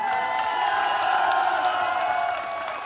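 An audience at a motivational speech event in Jaipur claps and cheers loudly and steadily for about three seconds, with whoops mixed in and a faint tonal hum underneath, easing slightly at the end.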